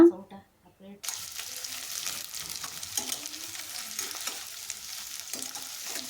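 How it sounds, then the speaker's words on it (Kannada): Onion sizzles steadily in a hot pan for onion rice, a bright continuous frying hiss that starts after a second of quiet clatter and goes on alone, with occasional stirring scrapes. "ಈಗ ಈರುಳ್ಳಿಯನ್ನು ಸೇರಿಸ್ಕೊತಾ ಇದ್ದೀನಿ ಈರುಳ್ಳಿ ತುಂಬ ಫ್ರೈ ಆಗುವ ಅವಶ್ಯಕತೆ ಇಲ್ಲ ಸ್ವಲ್ಪ ಫ್ರೈ ಮಾಡ್ಕೊಳ್ಳೋಣ"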